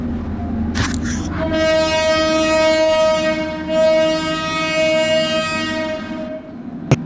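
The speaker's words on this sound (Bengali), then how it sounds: "আমাদের ট্রেন ধীরে ধীরে প্ল্যাটফর্ম থেকে ছেড়ে যাচ্ছে" A Bangladeshi passenger train pulls out of a platform on a Jamalpur route, sounding one long, loud, steady horn blast over heavy rumbling wheels and engine noise, close by.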